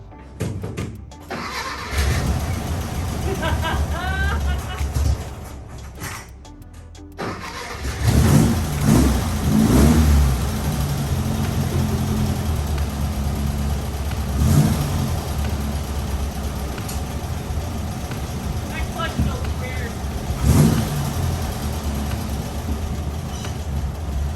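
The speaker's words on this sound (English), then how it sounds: "Have to give it a couple whacks with the gas pedal" The engine of a Bugatti replica car revs in repeated bursts as the gas pedal is pumped, rough and close, with a brief cranking start before it catches.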